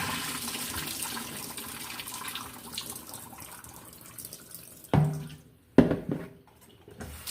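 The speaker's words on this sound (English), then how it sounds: "I'm gonna just throw off this water." Water poured off turkey wings soaking in rum and lime splashes and trickles steadily into a sink, ending with two louder gushing pours near the end.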